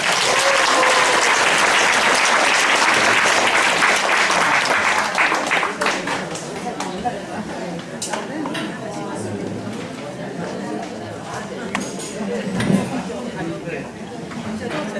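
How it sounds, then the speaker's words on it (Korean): A parish academy audience welcomes a priest with loud applause that fades over the first several seconds, followed by murmuring chatter and a voice beginning to speak. "박수 부탁합니다"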